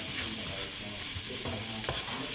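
Curry with a little brown sugar being stirred in a pan, an even sizzle under a few scraping strokes of a utensil, with one sharper knock near the end, heard close with no speech.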